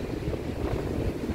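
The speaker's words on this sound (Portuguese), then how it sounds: "Ventando agora bastante." Strong wind during a cyclone at a small beach in Torres, Rio Grande do Sul, blowing hard against the microphone as a steady, loud, low rumbling roar over the sound of waves on the rocks, with no talking.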